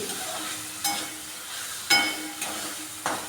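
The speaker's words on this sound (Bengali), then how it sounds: "ভেজে রাখা ডিম দিয়ে আমি মশলার সঙ্গে নাড়িয়ে নিচ্ছি" Fried eggs stirred into spice paste in a pan for egg curry, a soft low sizzle punctuated by four sharp spatula scrapes and knocks, close by and without speech.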